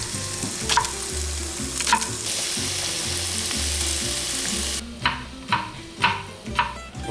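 Unbreaded okra frying in a pan in a Southern family kitchen, a loud steady sizzle with stirring scrapes, then the hiss drops and rhythmic spatula taps and pops repeat close by.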